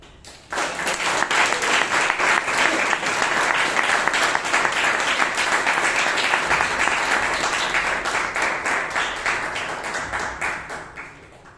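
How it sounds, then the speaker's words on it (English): A Toastmasters club audience in Bangalore applauds a speaker, a sustained burst of brisk, close clapping from a room of people that starts abruptly, holds steady for around ten seconds, then fades. "Kindly give a huge round of applause to Toastmaster Bhavya"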